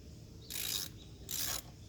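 A ratchet wrench tightens a rust-treated bolt back in, giving two bursts of quick, close clicking separated by brief pauses, with no talking.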